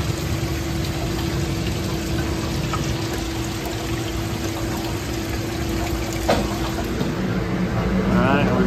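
Pitco commercial fryer's filter pump straining against a locked-up motor, a steady low hum and drone with a brief click near the end, under faint background noise before the breaker trips.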